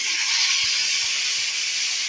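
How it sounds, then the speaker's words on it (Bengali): Potatoes fry in hot oil with salt, giving a steady, loud, bright sizzling hiss that continues without a break, with a few soft low bumps beneath it. "আমরা মতো নুন দিয়ে আগে এটাকে ভেজে নেবো আলুটাকে"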